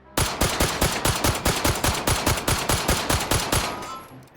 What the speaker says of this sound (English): I think this is a modernization of the 1911 that fires 9mm instead of 45.